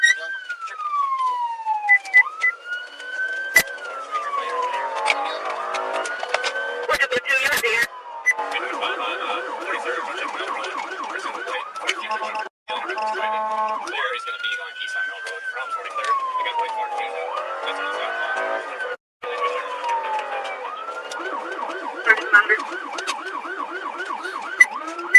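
Police car sirens wail and yelp in alternating patterns during a high-speed chase, loud and close, with brief gaps and a car horn-like blare mixed in.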